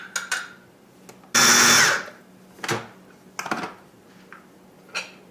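A food processor grinds ingredients for Thai collard wraps into a pâté, one loud half-second burst of whirring motor, followed by quieter knocks and scrapes of handling.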